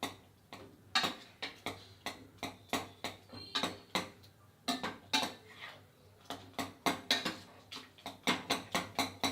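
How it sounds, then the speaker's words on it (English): Cooked pumpkin being mashed with a ladle inside a pressure cooker, giving a steady run of sharp metallic knocks and scrapes at a brisk, slightly uneven rhythm, close and fairly quiet. "with a ladle, mash the pumpkin"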